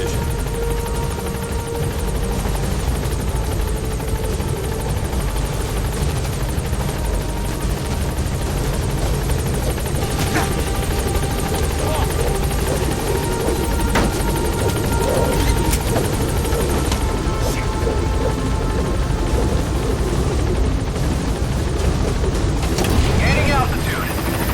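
A helicopter in Metal Gear Solid V runs steadily with a loud, constant rotor and engine drone throughout, with faint voices under it.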